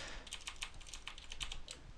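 Steady, fast typing on a computer keyboard, with closely spaced key clicks heard up close and no voices, during setup of a home or office network.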